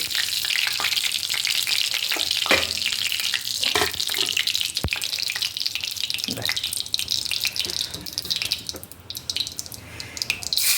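Garlic frying in hot oil for jackfruit curry, a loud, continuous close sizzle with intermittent stirring clatter and a sharp utensil knock.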